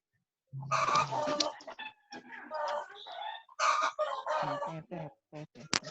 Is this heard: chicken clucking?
yes